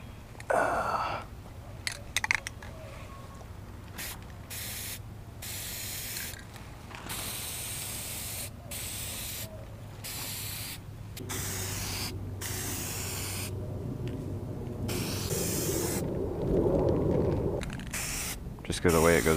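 Aerosol spray can applying base coat to a custom motorcycle or dirt bike frame, hissing in repeated bursts of varying length separated by short pauses, close to the microphone, with a person talking at times.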